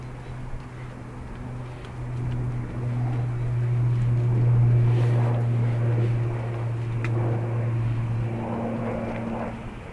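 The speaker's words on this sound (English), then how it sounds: "What you're hearing overhead is a KLM 777-200" KLM Boeing 777-200 airliner flying overhead on approach at Dublin Airport, a steady loud low engine drone with a strong low hum that swells through the middle and stays continuous throughout, with no talking.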